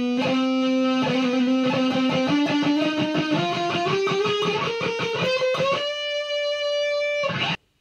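An electric guitar solo is played over the chorus riff, a fast run of picked notes climbing in pitch before a held, sustained note and an abrupt stop.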